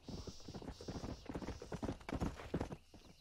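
In Red Dead Redemption, a stallion's hooves clip-clop in a quick, uneven rhythm close by, with a steady high ambient tone above and the footfalls stopping just before the end.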